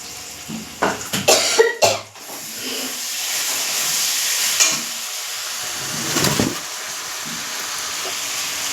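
A person coughs several times in quick succession in a home kitchen while potatoes and pointed gourd are cooked in oil, followed by a steady hiss of oil sizzling in a pan and a few sharper bursts.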